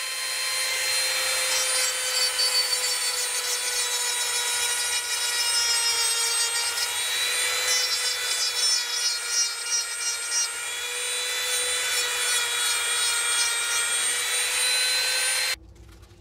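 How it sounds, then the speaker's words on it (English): A Dremel rotary tool whines steadily at high pitch while shaping and sanding a carved wooden Bufflehead duck decoy head, its tone wavering slightly as it bites into the wood, continuous and close with no voices. "Then some shaping and sanding with the Dremel tool."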